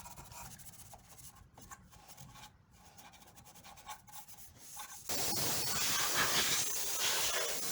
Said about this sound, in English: And finishing that off with some red Scotch-Brite.